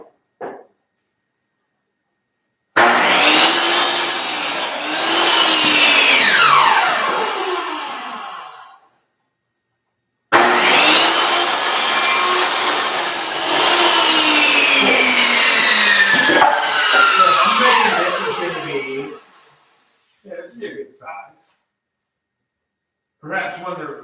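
A power tool trims a wooden table top in two long, loud bursts. Each burst roars steadily, then its pitch slides downward as the blade winds down, with a short pause between bursts and faint handling noises afterward.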